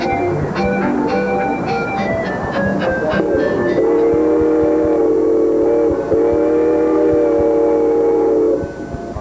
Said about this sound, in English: Take you on a section of the original 51-mile route of the Virginia and Truckee Railroad.